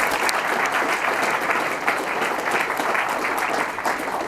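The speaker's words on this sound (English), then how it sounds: "So good round of applause for Kyle Moyner." A room full of people at an awards ceremony applauds steadily, a dense wash of clapping that holds at an even, loud level from start to finish.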